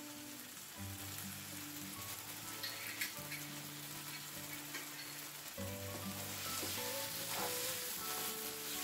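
Meatloaf ingredients with Italian seasoning and red pepper flakes fry in a pan on high heat, giving a continuous close sizzle and crackle with occasional stirring scrapes.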